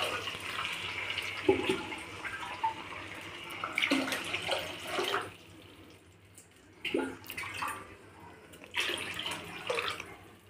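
Water pouring in bursts into rice flour for upma, several splashing pours with short pauses between them, close and fairly loud, no talking.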